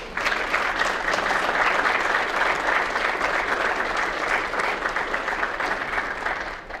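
An audience claps loudly and steadily at a West Virginia University clinical pathways ceremony for the DPT class of 2026: a dense, sustained wave of hand claps close by that holds evenly for several seconds before easing slightly at the end.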